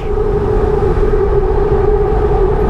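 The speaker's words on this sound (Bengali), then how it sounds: "ও স্কাই ট্রেন যাচ্ছে" An elevated metro train passes overhead near Banani in Dhaka, a loud, steady mechanical roar with a sustained droning tone throughout.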